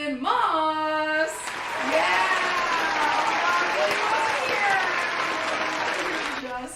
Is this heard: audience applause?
yes